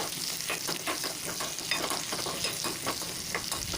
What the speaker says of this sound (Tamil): அதை சேர்த்து வெங்காயத்தை நல்லா வதக்கிக்கோங்க.